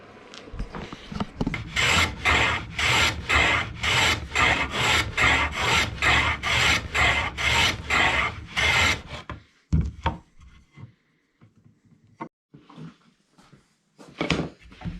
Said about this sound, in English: I'm going to pop this into my little shooting board that I use for planing up fingerboards and see how it behaves in that